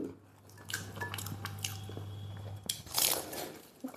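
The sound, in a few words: biting into crunchy egg puff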